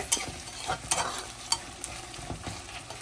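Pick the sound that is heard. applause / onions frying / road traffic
onions frying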